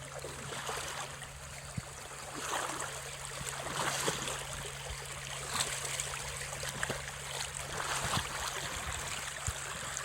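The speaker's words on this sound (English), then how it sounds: "comes from the creek down there, right through here and on down" Natural creek water runs steadily through a beaver trapping spot in March, a constant close babble and trickle with small splashes now and then.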